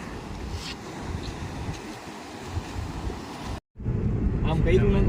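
Wind and surf at the Dwarka seashore, a steady broadband roar with wind buffeting the microphone, cutting out briefly before returning louder and closer; faint voices may sit beneath it.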